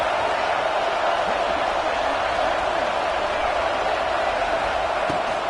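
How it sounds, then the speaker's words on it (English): A college football stadium crowd at North Carolina versus Clemson roars in a steady, dense wall of cheering that never lets up, loud and continuous throughout. "Listen to this crowd just shaking the girders of this place,"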